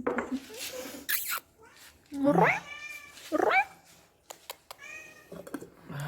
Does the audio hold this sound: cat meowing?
yes